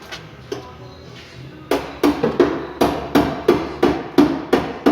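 A few light taps give way to a steady series of loud, ringing hammer blows on the metal bodywork of a classic Ford Capri, evenly spaced and close by.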